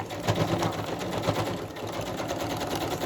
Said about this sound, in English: I do jump around a bit when I machine applique